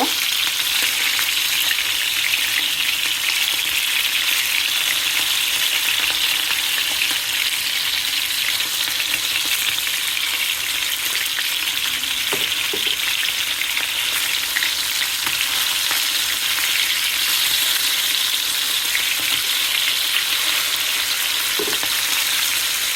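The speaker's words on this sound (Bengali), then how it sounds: "মাছগুলো এখন একে একে উল্টিয়ে নেব।" Hilsa fish frying in hot oil, turned over one at a time, giving a steady loud sizzle throughout with a few faint knocks as pieces are flipped.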